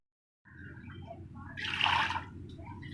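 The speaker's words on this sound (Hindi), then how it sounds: "अब इसमें हम 3 से 4 गिलास पानी ऐड कर देंगे।" Water pours into a cooking pot of mutton broth for pilaf, a soft splashing stream that starts abruptly and swells briefly into a brighter gush before settling, faint and close.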